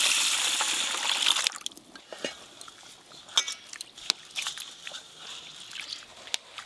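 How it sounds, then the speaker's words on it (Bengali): Water pours in a steady rush as red lentils are washed and put to soak in a home kitchen, then gives way to scattered clinks and knocks of utensils and bowls. "মুসুরির ডালগুলো ধুয়ে ভিজিয়ে নেব"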